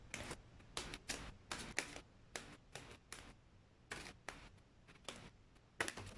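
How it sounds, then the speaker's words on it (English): A deck of tarot cards being shuffled by hand, heard as a series of sharp, crisp riffling bursts in an uneven rhythm, close and fairly quiet, with no voice over it. "I wanted to shuffle it, honestly, even though it's quite challenging."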